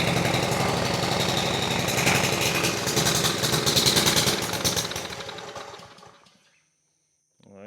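An engine running after its carburetor and pump were replaced: a steady, loud, rough chugging for about five seconds that fades away and stops, followed by silence and a faint clunk at the end.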